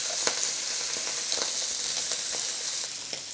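Food sizzling steadily in a frying pan after being flipped, a constant bright hiss with a few soft scrapes and ticks, close and fairly loud, no voices.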